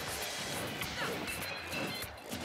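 Smash attacks in a Super Smash Bros. Ultimate tournament match: sharp crashing hits and whacks punch through busy game audio, with commentators talking over the action.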